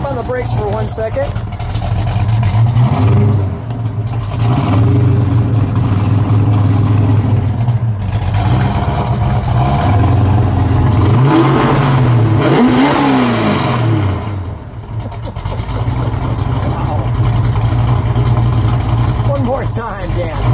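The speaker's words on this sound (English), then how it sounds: "then you'll give it one nice rev" Loud idle of a 1969 AMC Hurst SC/Rambler V8, broken by a few throttle blips that rise and fall, with people talking over the rumble.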